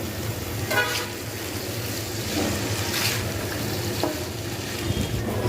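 Flat beans and potato fry in a pan with a continuous sizzle and occasional stirring scrapes, while a car horn toots faintly in the distance.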